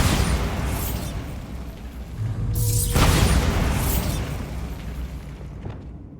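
Bombarda spell explosion in Hogwarts Legacy, a loud, deep booming blast with a sharp burst partway through, rumbling debris and a long fading tail, with no talking.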